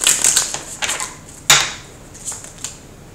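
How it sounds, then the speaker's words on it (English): Tarot cards shuffled by hand, close and loud, crisp riffling and sliding in several quick bursts with no talking. "One more shuffle, guys, to bring this back together."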